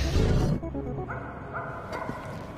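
A dog in the Watch Dogs 2 video game gives a short bark and yip at the start, followed by quieter whimpering sounds against a steady game background.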